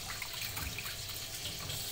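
Tap water runs steadily into a sink while vegetables are rinsed, a soft continuous splashing close by with no talking.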